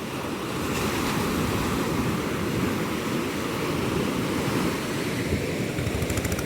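Afternoon high-tide waves roar steadily on the shore, a dense, unbroken churn of surf with wind rumble on the microphone, loud and near throughout, without voices.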